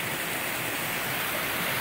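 Rushing stream water and a waterfall on Cedar Run Trail in Northern Virginia, pouring over rock water slides; a steady, loud, broadband wash continues unbroken with no voices.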